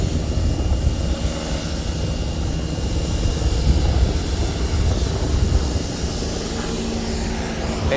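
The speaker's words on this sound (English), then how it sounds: "we got the sheriff chopper right there saying hi to us" Sheriff helicopter passing overhead, a steady aircraft engine and rotor rumble heard alongside continuous broadband hiss from a pressure washer spraying water nearby, constant and fairly loud throughout.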